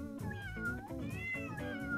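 A domestic cat meows repeatedly nearby, a run of drawn-out, rising and falling meows in quick succession, with no one talking.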